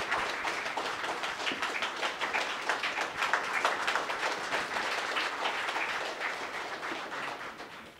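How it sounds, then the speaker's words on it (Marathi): A crowd at a book launch ceremony applauds loudly and steadily, dense overlapping claps filling the room for several seconds without pause. "जोरदार टाळ्या होऊन जाऊ द्या."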